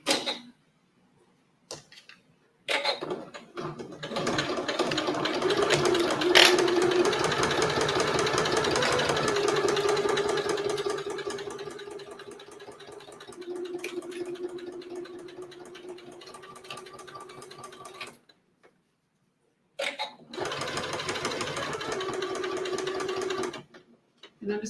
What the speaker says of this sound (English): I'm just going to back stitch on top of the stitches that I ended with last time around